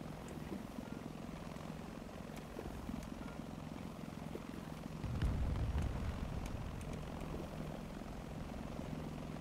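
An aircraft engine drones and builds in a War Thunder battle, a continuous propeller rumble that grows louder midway as the plane approaches, with faint scattered clicks and no talking.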